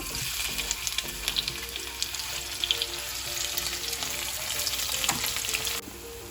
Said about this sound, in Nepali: अब म प्याज, अदुवा, लसुनलाई पालै गरेर गोल्डन ब्राउन हुने गरेर फ्राई गर्छु।